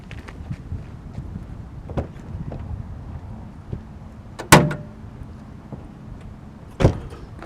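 The hood of a modified Volkswagen MK4 R32 is unlatched and opened. Soft shuffling and light taps lead to a sharp metallic clunk, followed a couple of seconds later by a second solid thump.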